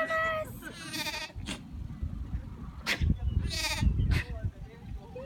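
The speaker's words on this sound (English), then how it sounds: "We got a little goat." A little goat bleats in a pen on an alpaca farm, with several short, wavering cries at close range over rustling and handling noise, while people talk and exclaim nearby.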